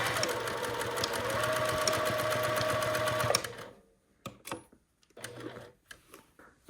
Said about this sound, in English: Then I'm going to top stitch this down.